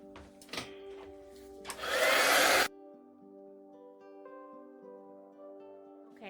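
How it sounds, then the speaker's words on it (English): A heat tool drying acrylic paint gives a brief loud rushing blast of air lasting under a second, then cuts off, leaving a faint steady hum, with a few light clicks before it. "I'm going to speed dry that with my heat tool in just a moment"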